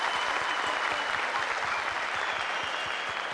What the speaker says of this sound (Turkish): Bir kocaman alkış istiyorum ben.